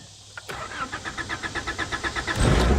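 A 1985 Honda Accord engine cranking on fresh gas, a rapid rhythmic starter chug of about a dozen even beats, then catching into a louder running roar at the end, close and clear.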